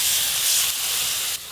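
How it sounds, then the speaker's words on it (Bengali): Water poured into hot spice paste for a tangy village-style topse fish curry sizzles with a loud, broad, steady hiss that drops slightly near the end, with no talking. "এবার পরিমাণ মতো জল দিয়ে"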